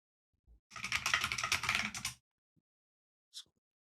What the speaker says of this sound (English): going hammer on that keyboard